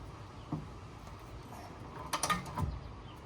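A ratchet wrench works loose the camber kit bolts on an Integra Type R during a five-lug conversion, making a short burst of quick metallic clicks close by over a dull garage background.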